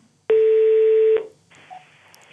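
A telephone number is dialed, a single long, loud, steady DTMF tone holding for nearly a second, followed by faint line noise.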